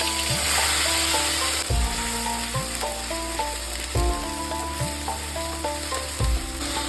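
A paste of tomato, onion, garlic and dried red chilli sizzling in a hot pan, a constant close frying hiss with periodic stirring scrapes and soft knocks against the pan.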